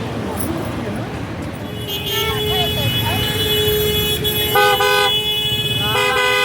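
Car horns honk in repeated short and sustained blasts over the steady rumble of Mumbai road traffic near Mahalaxmi station, with several horns overlapping close by and voices talking in the background.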